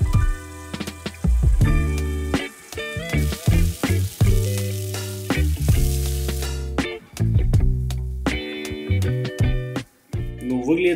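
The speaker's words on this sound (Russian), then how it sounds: "котлеты жарятся 4 минуты" Steady sizzling and spattering of meatless patties frying in a hot pan, loud and close, with music playing over it throughout.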